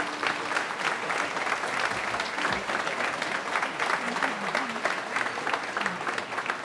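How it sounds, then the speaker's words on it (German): An audience applauds at a 1969 German television variety show, with steady dense clapping that goes on throughout, loud and close. "dein Applaus. Bitte."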